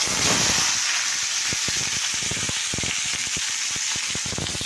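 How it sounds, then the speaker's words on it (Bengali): Green chilies hit hot oil with a steady, loud sizzling hiss, crackling pops scattered throughout, close up with no voices. "দেখতে পাচ্ছি তেল গরম হয়ে গেছে, দেখুন লঙ্কা দিলাম"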